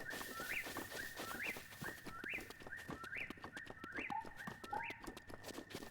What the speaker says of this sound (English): That bird call that you hear in the background?